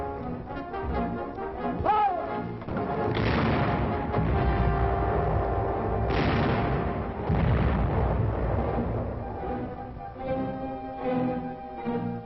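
Artillery guns fire in a World War II battle in the hills during the Luzon campaign, a series of heavy booms and rolling blasts spaced a few seconds apart, loud and reverberant, under an old film soundtrack with music-like tones.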